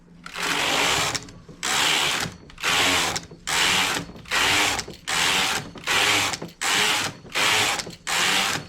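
Knitting machine carriage sliding back and forth across the needle bed while knitting English rib stitch, giving about ten loud, even whirring passes separated by short pauses, close up with no talking.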